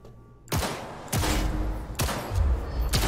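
Gunfire from hip-fired weapons in Cyberpunk 2077, with loud bursts of shots in a steady rhythm: one at about half a second, then more at roughly one-second intervals. The shots sound sharp and close with no talking.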